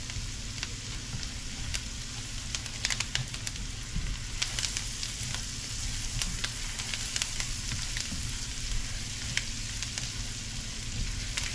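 Onion frying in a pan as the base for spicy pepper shrimp, a steady dense sizzle with frequent small crackles and pops running close and loud throughout, no voices.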